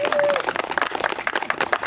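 A drive-in audience at the Starlight Drive-In claps during a Scream Queen crowning vote, producing a dense, steady patter of many hands at moderate distance, with a voice briefly over it at the start.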